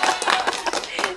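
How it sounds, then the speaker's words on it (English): Short burst of applause from a sound effect, a dense patter of many clapping hands lasting about a second, fairly loud and with no talk over it. "There's your round of applause."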